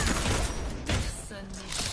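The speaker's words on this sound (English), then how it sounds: "My turret's under fire." Rapid gunfire from the Overwatch video game hammers at a turret, a dense continuous barrage of shots and impacts filling the whole two seconds at steady loudness.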